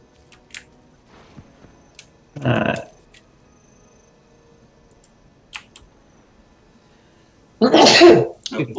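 A person sneezes close to the microphone during a Guild Wars 2 session: one short burst, then a louder, fuller sneeze several seconds later, with faint keyboard clicks and quiet game sounds in between.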